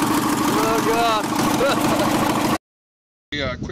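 A Briggs and Stratton engine idles on a tractor during a carburetor tune-up, a loud, steady mechanical chug with a fluctuating whine. It cuts out abruptly into silence, then returns briefly.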